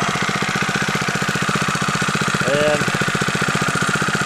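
A lawnmower engine fitted as a boat outboard motor idles with a steady rapid chugging pulse, loud and close, while someone speaks briefly over it.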